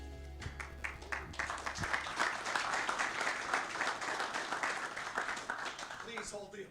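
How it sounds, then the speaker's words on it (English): Audience applause rises as Adam Kinakin is introduced at the Emerson Hour show, a dense, steady wash of clapping lasting several seconds with voices talking over it before it tapers off. "Please hold the applause"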